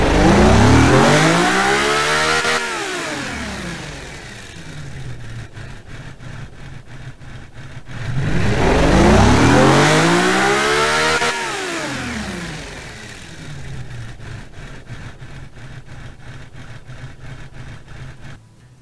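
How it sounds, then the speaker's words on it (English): Simulated engine in the car-tycoon game Automation revving hard through two dyno pulls, each sweeping up in pitch to a loud scream, then dropping back to a rough idle between runs, with no talking. "So now I'm gonna run the engine."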